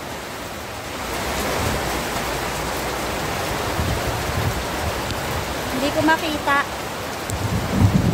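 Steady rain hiss fills the clip from start to end at a pigeon loft, with someone speaking briefly over it near the end.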